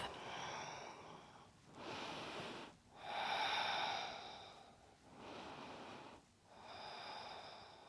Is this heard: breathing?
yes